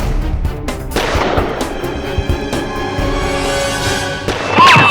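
Gunfire in a Hindi courtroom drama, a series of sharp loud gunshots cracking in fast succession over a dramatic background score, with no talk.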